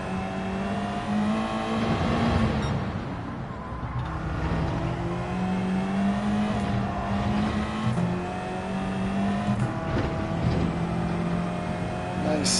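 Race car engine in Gran Turismo 7, Deep Forest Reverse circuit, revving steadily with pitch sweeps as gears shift, continuous and loud throughout with occasional tire noise.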